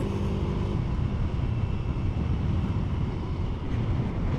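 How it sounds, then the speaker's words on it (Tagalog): Strong wind roar buffets the microphone while riding a Mio i125 scooter on a mountain road, a steady, loud broadband rush with engine rumble underneath, continuous throughout and with no talking. "lakas ng hangin"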